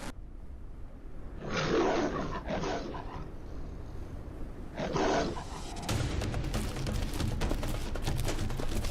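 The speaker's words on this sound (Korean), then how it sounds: "그때 갑자기 계곡 끝에서 포효가 터져 나왔다." A lion roars in the wild, two deep, rasping bursts about three seconds apart rising out of faint background rumble, followed by a rougher, noisier stretch of growling and commotion.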